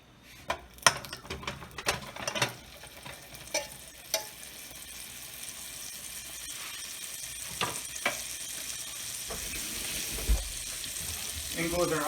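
Butter and olive oil sizzle in a pan, the crackle starting sparse with several sharp knocks and clinks, then swelling into a steadier, denser hiss.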